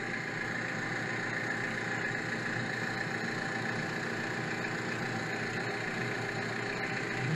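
A parked car's engine idles with abnormal vibration felt around the gearbox, a steady, unbroken drone heard up close, with no talking.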